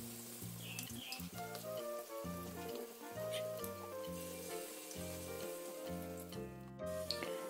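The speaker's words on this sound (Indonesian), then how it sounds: "Goreng sampai matang dan garing." Bala-bala vegetable fritters fry in hot oil with a steady, soft sizzle and crackle, partly masked by louder background music throughout.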